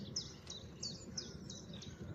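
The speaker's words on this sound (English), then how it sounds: "Oh, I just heard another nightingale over this way." Nightingale at Rainham marshes in early morning, giving a series of short, high chirping calls roughly every third of a second, moderately distant over a steady low background rumble, with no talking.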